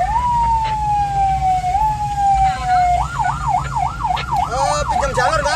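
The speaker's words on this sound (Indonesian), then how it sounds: "Nurjan, Nurjan, Nurjan, mohon izin ambulan PMI." An Indonesian Red Cross (PMI) ambulance siren responding on a city street sounds loud and near, first a long steady wail, then a rapid rising-and-falling yelp with overlapping tones over traffic noise.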